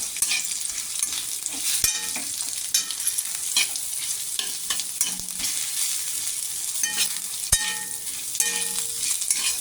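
Okra fries with masala in an iron pan, a continuous close sizzle with repeated sharp scrapes and taps of a spatula stirring against the metal.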